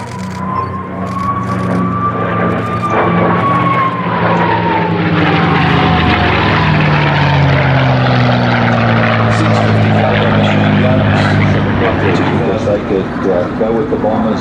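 A P-51D Mustang's piston engine and propeller roar loudly and steadily at an air show, with a falling whine as the aircraft passes, heavy and continuous throughout.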